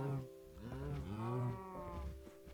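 Cows in the Minecraft video game moo in a few faint, drawn-out, low calls, quiet and alone.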